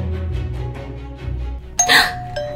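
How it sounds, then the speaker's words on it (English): A doorbell in the Roblox game Adopt Me, a bright ding-dong chime breaking in after a stretch of background game music, loud and close. "That's the doorbell."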